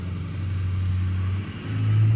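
A dually truck pulls away over rocks and mud, its engine rumbling steadily at close range and swelling into a louder rev near the end.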